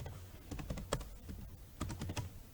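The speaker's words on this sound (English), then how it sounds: "So let me see what I can type." Steady typing on a computer keyboard, a quick run of soft key clicks at close range with no talk.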